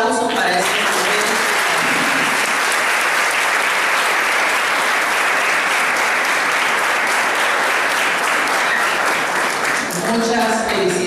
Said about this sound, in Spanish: Quiero pedirles, por favor, público presente, un fuerte aplauso para este momento.